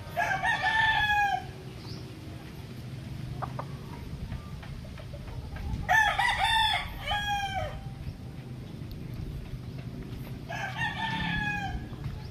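A fighting gamecock crows three times, loud and close, with a pause between each crow over a quiet outdoor background with faint clucks and ticks.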